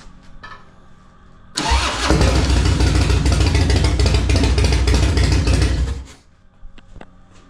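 A stunt bike engine with freshly installed Fueling 525 cams cranks and fires, then runs loud and rough at close range for about four seconds before shutting off, with no talking.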